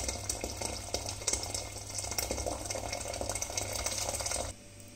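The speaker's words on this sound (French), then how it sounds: "Rajouter 1 litre d'eau bouillant." Boiling water being poured into a pot of Moroccan harira soup gives a steady, loud liquid rush with bubbling texture. It runs continuously for several seconds, then stops abruptly near the end.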